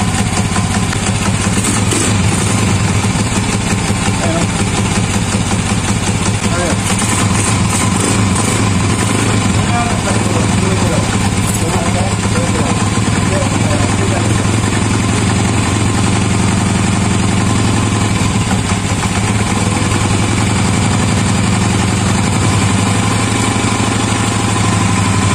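A newly rebuilt TMX155 motorcycle engine runs at idle with a loud, steady knocking chug throughout, a voice talking over it.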